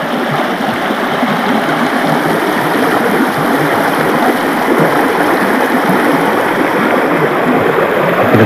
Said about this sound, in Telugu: వాటర్ ఫ్లో దగ్గరికి.